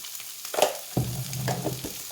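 Potatoes stir-fried dry in a pan give a soft sizzle, then a couple of scraping strokes, with a low hum under it all, close but quiet, and no speech.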